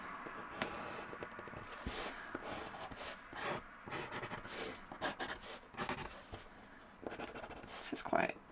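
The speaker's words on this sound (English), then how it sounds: "This is quite a nice paper for sketching on." A pencil scratches across sketching paper in short, uneven strokes and scribbles, close and quiet, with pauses between bursts of drawing.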